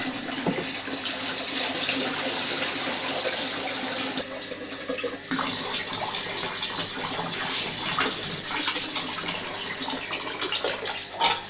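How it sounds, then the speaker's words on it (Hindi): Whole masoor lentils being rinsed and swished in water, a steady sloshing, splashing wash that runs close and continuous with small surges and pauses, no voices. "दाल को अच्छे से धो लेते हैं कि जो इसमें मिट्टी वगैरह होगी ना वो सारी निकल जाएगी।"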